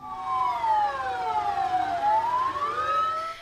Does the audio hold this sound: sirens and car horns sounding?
yes